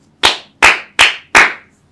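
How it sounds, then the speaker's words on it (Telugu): Four sharp, loud hand claps in an even rhythm, close by, the distinctive clap taught within the transgender community, each ringing out alone against a quiet room. "ఎలాగానే క్లాప్స్ కొట్టడం నేర్పిస్తారంట కదా"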